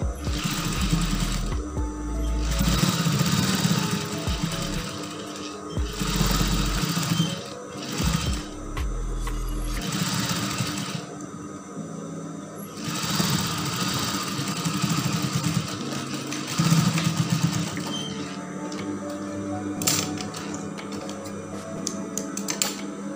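Sewing machine stitching a lace (brokat) dress from the outside, running in loud bursts of rapid mechanical whirring that stop and start, with short pauses between runs and faint handling noise.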